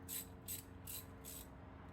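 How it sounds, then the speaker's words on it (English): A ratchet wrench spins on a corroded nut, giving four evenly spaced bursts of quiet, rapid clicking in a steady rhythm. "Once the ratchet stops spinning,"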